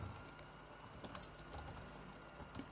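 Typing on a computer keyboard while writing Python code: quiet, irregular key clicks with a few louder taps, close up over a low background hum, with no talking.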